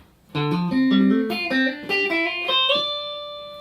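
A clean-toned electric guitar plays a quick minor lick built on wide interval leaps, several distinct notes ringing out alone before the last one sustains.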